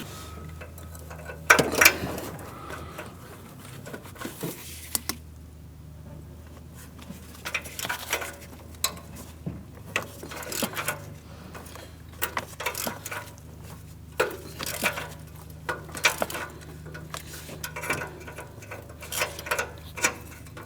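A ratchet turns an O2 sensor socket to remove an upstream oxygen sensor on a 2015-2025 Ford Transit 250, giving close, sporadic clicking bursts and metallic knocks over a low hum, with no talking.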